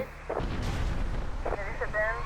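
Bomb explosions in GTA Vice City: two heavy booms about a second apart, each with a deep rumbling tail, sounding loud and close.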